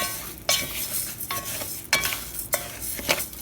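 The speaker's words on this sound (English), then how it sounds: "With my wooden spoon, I'm giving it a little stir to coat the rice in that oil" A wooden spoon stirs rice coated in oil inside a hot saucepan, giving a steady close scraping and sizzling with several sharp knocks against the pan at irregular intervals.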